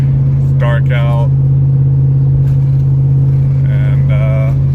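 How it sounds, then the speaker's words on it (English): A truck drives along a freeway in the dark, its steady low engine drone and road rumble running continuously throughout, with someone talking over it in two short bursts. "Got the truck going here on the freeway."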